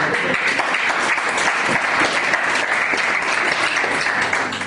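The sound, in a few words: congregation applauding to acclaim the Lord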